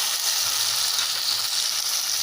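Small cubed potatoes with turmeric, dry chili powder, cumin powder and salt frying in a pan, a steady close bright sizzle that runs unbroken and alone.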